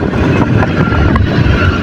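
An Ariston kitchen hood fan runs at speed, pulling air in a loud, steady broadband whoosh that holds without a break, with no voices.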